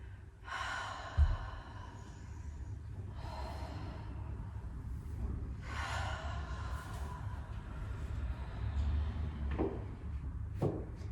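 Breathing during a yoga session: several slow, audible exhales through the mouth, spaced a few seconds apart, soft and close with a faint background hum and no talking.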